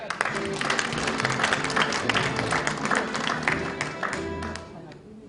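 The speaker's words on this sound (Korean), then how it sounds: "여러분 큰 박수 부탁드리겠습니다." A crowd claps together in steady applause at an inauguration ceremony, dense and sustained, with a faint background hum and voices mixed in, tapering off near the end.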